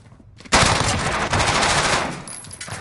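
Rapid automatic gunfire from a competitive 4v5 shooter match in domination mode bursts in loud and sustained after a quiet half-second, continuing as a dense clatter with a brief break in the middle.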